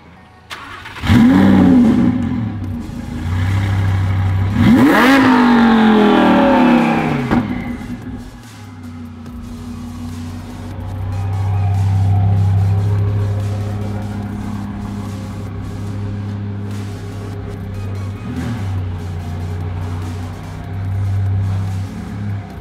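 A Lamborghini cold start: the starter catches and the engine fires with a loud bark and sharp rev flare, then several quick blips before settling into a steady, rumbling high idle with occasional small throttle rises.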